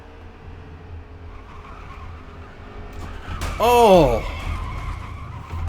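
Tires squeal and skid in a pickup-truck crash during a Pocono oval race in a racing video game, a sudden loud screech over steady engine drone with a voice briefly exclaiming.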